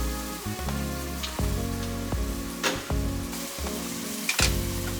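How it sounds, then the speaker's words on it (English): Pinot Grigio splashed into a hot pan to deglaze the browned bits, a close hiss and crackle of sizzling liquid with a few sharper spits and bursts, alone without talk. "When we hit it with this wine, it's gonna deglaze all that brown stuff"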